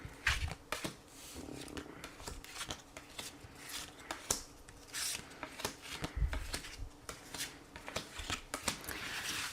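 Tarot cards shuffled by hand before a reading, a run of crisp riffling and flicking snaps that comes and goes close up, with soft rubbing between bursts and no talking.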